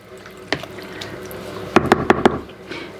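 Elderflower fizz mixture being stirred in a bucket, with soft liquid swishes and a quick run of four or five sharp knocks and splashes of the spoon against the bucket, close and fairly quiet.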